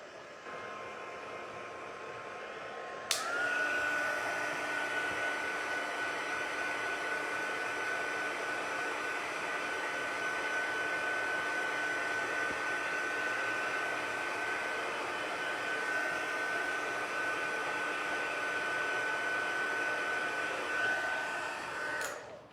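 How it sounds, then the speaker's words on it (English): A heat tool blows steadily for about twenty seconds, drying a handmade card; a loud, constant whirring hiss with a steady whine starts abruptly and runs alone before cutting off near the end. "So I'm going to dry it off a bit with my heat tool."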